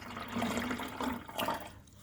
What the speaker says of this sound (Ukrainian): я виливаю це все у 1 літр води